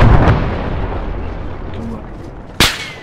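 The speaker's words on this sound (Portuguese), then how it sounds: "Tô tomando tiro aqui, tô tomando tiro, corre, Dantas" A single loud blast of gunfire or explosion from an Arma 3 battle on Stratis cracks out near the end, over a steady rumbling battlefield background.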